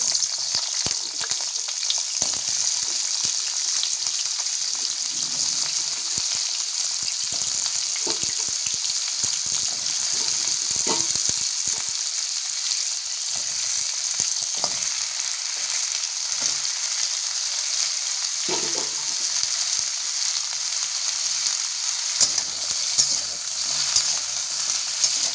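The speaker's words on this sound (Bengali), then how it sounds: "বেগুন, ডাঁটা, লাউ, গাজর, বিনস, এগুলো সব রয়েছে, এগুলো ভেজে নেবো।" Eggplant, drumstick, gourd, carrot and beans fry in hot oil with a steady, loud sizzle and crackle throughout, plus occasional stirring clinks; nobody speaks.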